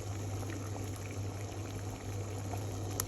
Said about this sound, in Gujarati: હવે આપણે જે ચાસણી બનવા મૂકી તે જોઈ લઈએ. આને ઉકળતું બંધ નથી કરવાનું